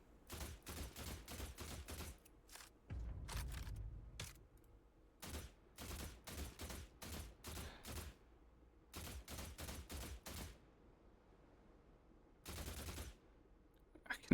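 Gunfire in a video game comes in bursts of rapid shots, with several clusters of quick cracks separated by short pauses, fairly quiet overall.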